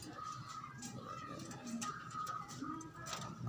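Pigeons coo softly and repeatedly at a middle distance amid a noisy, cluttered background, their low murmuring calls recurring through the stretch.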